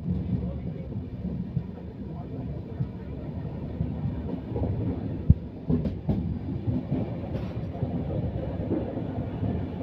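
A passenger train running on the Diva to Ratnagiri line is heard from inside the carriage as a continuous low rumble and rattle, with a few sharp clanks and faint voices in the background.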